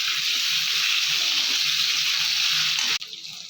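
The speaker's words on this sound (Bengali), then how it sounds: "আলুগুলোকে একটু লাল লাল করে ভেজে নেব।" Potatoes fry in a pan with oil, giving a loud, steady sizzle up close that cuts off abruptly near the end, leaving a quieter background.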